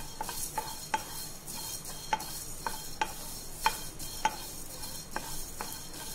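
Coriander seeds dry roasting in a pan while being stirred, giving a steady faint sizzle with repeated light scraping clicks of the spoon against the pan, no voices.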